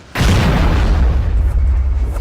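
A loud, booming shotgun blast from a shotgun power-up in the Superhero-X fighting video game, striking suddenly with a deep low-end rumble that lingers and decays over about two seconds.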